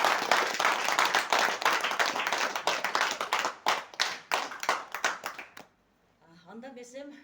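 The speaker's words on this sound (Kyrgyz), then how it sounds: "Келиңиздер өзүңүздөр үчүн каттуу бир кол чабуулар." An audience at a seminar in Osh breaks into rapid, loud applause that gradually thins to scattered claps, followed by someone speaking.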